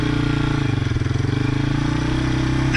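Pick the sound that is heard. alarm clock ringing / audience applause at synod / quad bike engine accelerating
quad bike engine accelerating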